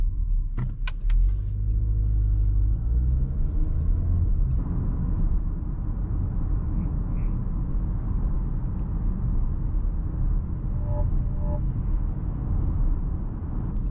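A 2024 Porsche Macan SUV is driven through corners, heard as a steady low engine and road rumble from inside the cabin. A few sharp clicks come early on, and the drone continues evenly with no voices.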